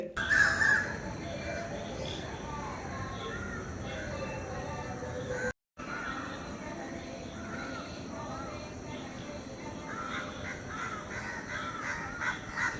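Crows caw intermittently in the distance over a quiet morning background on a house rooftop, a few scattered calls near the start and more toward the end.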